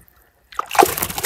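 A bass released by hand during a fishing tournament drops back into the water with a short, close splash and sloshing after a brief silence.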